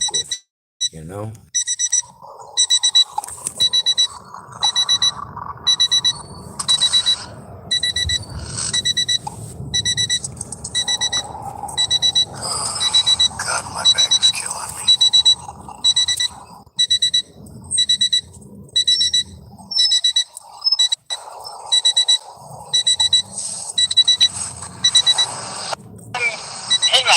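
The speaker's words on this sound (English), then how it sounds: "Sorry about the beeping in the video," Continuous electronic beeping in fast, regular pulses runs through the whole stretch, with people talking over and under it.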